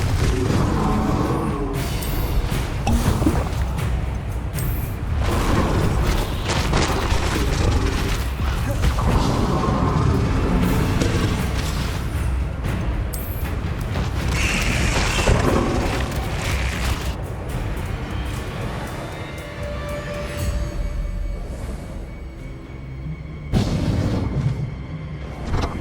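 Blasting spell explosions in Hogwarts Legacy come as dense, continuous booms and crashes under combat effects and music, loud throughout with little pause.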